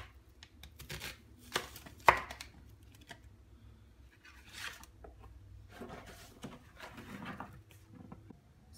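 Knife chopping potatoes into cubes on a cutting board, a scattered run of light, quiet taps with one sharper knock, fairly close and low in level with no talk.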